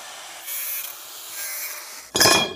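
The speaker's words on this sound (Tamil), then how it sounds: "இதில் 3 அடியாக அளந்து 2 பீஸ் கட் பண்ணி எடுத்துக்கிடுவோம்." Square metal tube being cut into pieces for an electric scooter frame: a faint, steady rasping hiss gives way to a loud, harsh burst of cutting noise in the final half-second.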